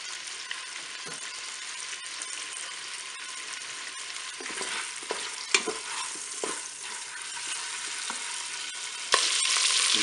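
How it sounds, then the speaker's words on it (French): Paupiettes browning in melted butter in a pot, a steady close sizzle and frying hiss with occasional stirring scrapes and clinks, no voices. "j'ai mon beurre qui est fondu, je vais commencer à faire dorer mes paupiettes tranquillement"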